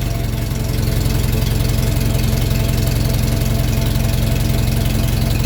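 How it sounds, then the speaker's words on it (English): A Farmall tractor idles close by with its exhaust rain cap fluttering, a loud, steady low rumble made of rapid regular pulses and a rattling flap that continues without pause. "People come up with every suggestion under the sun to tell us why our rain cap flutters at idle."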